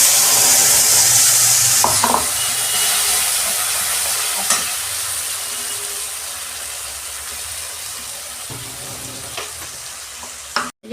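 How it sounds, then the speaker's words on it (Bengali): Five-spice seeds frying with mustard, poppy and ginger paste in hot oil, a loud bright continuous sizzle that slowly eases, broken by a few stirring scrapes and knocks, no talk. "পাঁচ ফোড়ন দিচ্ছি, সর্ষে পোস্ত আর আদা পেস্ট করেছিলাম দিয়ে দিচ্ছি।"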